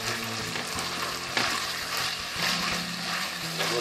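Chopped garlic, onion and pepper fry in a pan with a steady close sizzle and a few stirring scrapes, loud and continuous with no talking.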